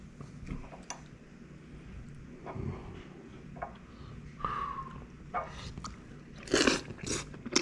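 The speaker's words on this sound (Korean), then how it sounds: "아가미 통을 한번 먹볼게요" Someone chews giant octopus gills from inside the head, producing soft wet bites and crunchy chewing sounds close to the ear, with occasional clinks.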